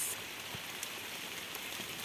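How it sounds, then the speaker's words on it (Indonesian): Rain beginning to fall, a steady even hiss of drops on surfaces with occasional louder individual splatters close by, soft and continuous with no voices. "karena hujan juga sudah mulai turun"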